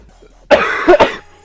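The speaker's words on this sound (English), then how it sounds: "It's just I'm coughing a lot more." A person who is sick coughs: a short, loud burst of two or three harsh coughs close to the microphone, preceded by a brief quiet moment.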